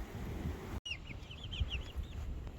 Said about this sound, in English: These chicks have got to get out of my living room.